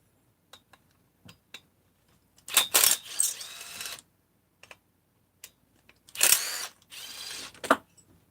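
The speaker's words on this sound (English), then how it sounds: "Fine, I'll take apart the carburetor." Metallic clicks, ratcheting and clattering tools while a Husky 257/262 chainsaw carburetor is taken apart, with sparse taps between two louder bursts of rattling, close by and without talk.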